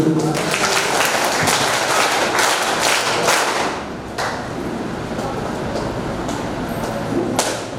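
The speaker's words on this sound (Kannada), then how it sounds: "ಶ್ರೀ ಗುರುಗಳಿಗೆ ಒಂದು ಜೋರಾದ ಚಪ್ಪಾಳೆಯ ಸ್ವಾಗತವನ್ನು ನಾವೆಲ್ಲರೂ ನೀಡಬೇಕು" Loud, dense applause from a gathered crowd welcoming a visiting guru at a summer-camp gathering, sustained and even for several seconds before easing slightly, with a few sharper claps near the end.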